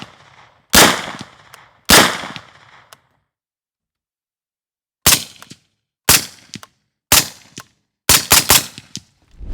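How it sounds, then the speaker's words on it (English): Unsuppressed 9mm MP5 with a 9-inch barrel firing 147-grain rounds: loud sharp reports, two spaced single shots, a pause, then several more shots at a quickening pace ending in a rapid cluster. "147 grain 9mm, MP5, 9-inch barrel,"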